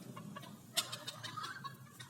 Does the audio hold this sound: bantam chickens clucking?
yes